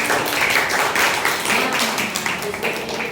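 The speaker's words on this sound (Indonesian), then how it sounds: "Oke, tepuk tangan dulu dong" Students in a classroom applaud together, a dense, steady patter of many hands clapping at close range for a few seconds with no voices standing out.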